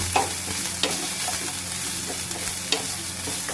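Oil sizzles steadily in a pan as finely chopped onion fries, with a low hum underneath, broken by a few light scrapes and stirring clacks.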